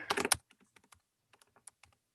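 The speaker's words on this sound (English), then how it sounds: "So let me type that in." Keys tapped on a computer keyboard while entering specifications: a quick burst of dense clicks, then scattered single, faint keystrokes at irregular intervals, close and with no talk.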